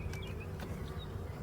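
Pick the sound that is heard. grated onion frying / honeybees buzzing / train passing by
honeybees buzzing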